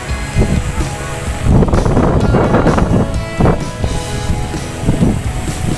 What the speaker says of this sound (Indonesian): Angin kong ini lho, angin kong ini lho, juara kong lho.